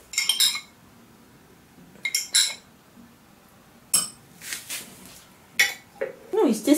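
Shashlik sauce being mixed through vegetables in a bowl, giving a few separate bursts of clinking utensil-on-dish scrapes and taps at close range, with gaps of quiet between them.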